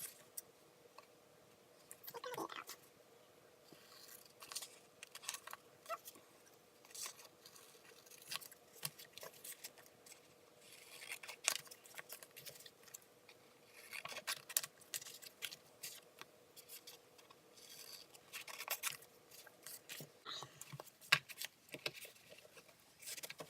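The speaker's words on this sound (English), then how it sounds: "I'm going to cut up some of these stickers to be able to keep in here" Scissors snip through sheets of stickers being cut up for a 2019 A6 Hobonichi Techo health journal, giving soft, scattered clicks and short cuts at a quiet level with no talking.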